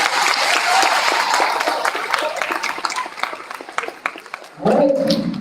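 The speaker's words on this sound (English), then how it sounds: "Let's give them another round of applause." An audience claps and cheers in a room for several seconds, dense and lively at first, then thinning into scattered claps before a voice speaks at the close.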